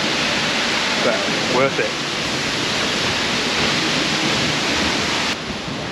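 Steady loud roar of a waterfall in Iceland, a dense rushing wash filling the whole clip, with a person briefly speaking over it.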